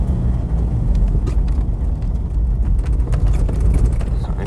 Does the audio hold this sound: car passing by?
yes